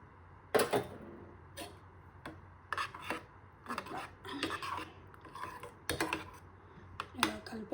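A spoon scrapes and clinks against a bowl while curd is stirred into warm ragi malt, giving close, irregular rasping strokes with small knocks and quiet gaps between them.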